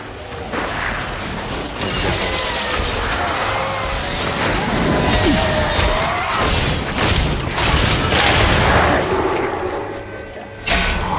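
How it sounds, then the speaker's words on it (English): A Crusader using the Falling Sword ability in Diablo III: Reaper of Souls, a loud dense wash of whooshes, rumbling booms and clashing game effects that swells through the middle and ends on a sharp impact. "So the only ability we haven't seen yet is Falling Sword. Let's do that now."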